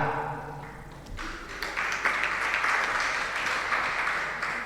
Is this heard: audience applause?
yes